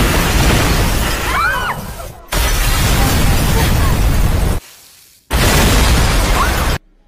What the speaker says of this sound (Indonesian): Ledakan demi ledakan memecahkan kaca ruangan.